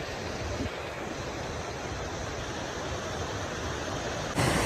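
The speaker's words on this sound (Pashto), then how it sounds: "نن هغه بر ابشار دومره ښکلی تیز بهیږي" A fast-flowing waterfall swollen after rain roars as a steady, dense broadband rush at close range, constant throughout with a brief louder surge at the very end.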